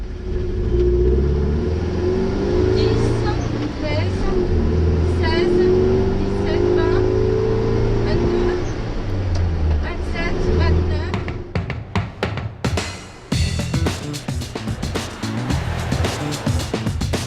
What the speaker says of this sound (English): It's the chance for the biggest engines to open up and let rip on a road that's been closed off for the competitors.